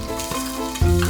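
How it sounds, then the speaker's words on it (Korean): Steady bubbling sizzle of mushrooms deep-frying in hot oil on an induction cooker, continuous and close, with no talking. "튀겨지는 소리 들리시죠?"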